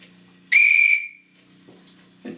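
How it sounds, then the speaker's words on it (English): A railway guard's single sharp, shrill whistle blast on a platform, short and loud, cutting through a low hum, followed by quieter background noise. "He ran onto the platform, blew his whistle"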